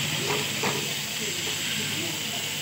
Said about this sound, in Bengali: এবার এই মশলাটা ভালোভাবে কষে নিতে হবে।